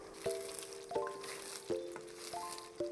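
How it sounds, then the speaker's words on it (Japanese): A wooden spatula scrapes through thick red bean paste in a pot, making four evenly spaced soft scraping strokes, each with a brief ringing tone from the pot, heard close up with nothing else around. "鍋肌から中心に向かって木べらを入れていきます。"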